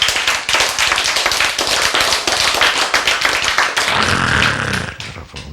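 An audience claps hands together at a religious seminar, dense rapid applause that holds steady for several seconds before thinning and trailing off near the end.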